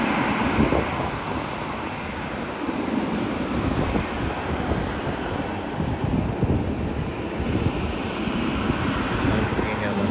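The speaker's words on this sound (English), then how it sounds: "This Qantas flight has been taxied." A Qantas airliner taxiing at Melbourne airport gives a steady, broad jet-engine roar mixed with wind buffeting the microphone, continuous and fairly loud throughout.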